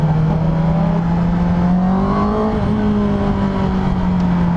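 A stock Honda CB650R motorcycle engine drones loudly and close, its smooth tone climbing slightly in pitch and then settling as it runs steadily.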